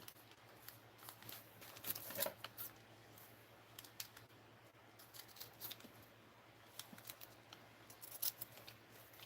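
Scissors snipping paper while crafting a holiday art journal in an altered book, a series of short crisp cuts in quick irregular bursts at close range, fairly quiet, no talking.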